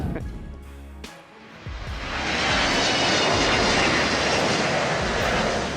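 A Boeing 777-300 jet roars low overhead on a landing approach, first a short rumble and then a loud, broad engine roar that swells and holds for several seconds, heard from a boat.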